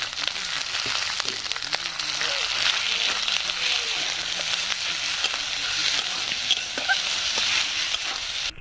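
Green peas frying in a wok with ginger and green-chilli paste for a koraishuti kochuri filling, a steady close sizzle with stirring scrapes throughout and no talk.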